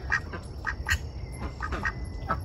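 A mallard duck quacks repeatedly in a quick series of loud, nasal calls close by, each short and raspy, with brief gaps between bursts.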